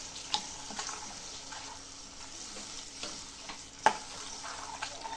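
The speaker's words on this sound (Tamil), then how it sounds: "இப்போ நம்ம இதோட புளி கரைச்ச தண்ணியை வந்து நம்ம ஆட் பண்ணிக்கலாம்" Tamarind water goes into fish curry masala frying in a pan, making a faint, steady sizzle with light stirring scrapes and one sharper clink near the end.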